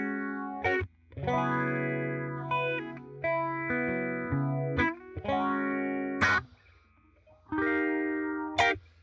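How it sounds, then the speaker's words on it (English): An electric guitar with a clean tone runs through a phaser pedal, playing sustained chords and notes with a sweeping, swirling shimmer, separated by brief gaps and sharp pick attacks. "I decided to go with a phaser because it's a very pronounced effect"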